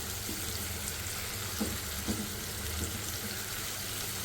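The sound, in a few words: garlic frying in a pan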